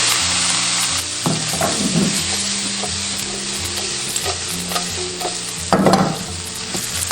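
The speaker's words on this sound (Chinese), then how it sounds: "接着加入姜蒜、干贝、 喷入1圈料酒去腥" Ginger, garlic and dried scallops stir-fry in a hot wok as cooking wine is splashed in, giving a loud continuous sizzle broken by scraping spatula strokes and a louder flare of hissing toward the end.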